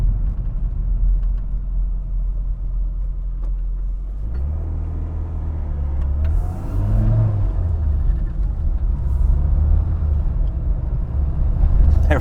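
Classic Mini Cooper JDM model driving, a steady low engine rumble heard from inside the car that swells as it picks up speed, with faint voices now and then.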